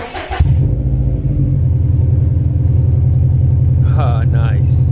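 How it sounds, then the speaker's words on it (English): A Subaru STI fitted with a new Invidia exhaust cranks and fires, then settles into a loud, deep, burbling idle up close, with brief voices near the end. "So this one will be the first start on the new exhaust."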